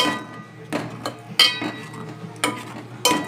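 Palathalkalu rice dumplings stirred in milk in a pot, with a spoon knocking and scraping against the metal in about half a dozen distinct clinking strokes, close and fairly loud.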